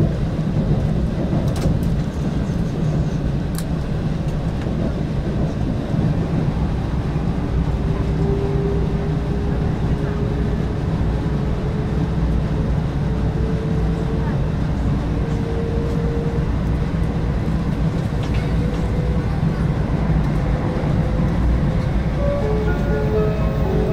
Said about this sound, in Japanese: 列車は高崎を発車しました。